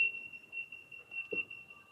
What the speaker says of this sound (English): sounded like a fire alarm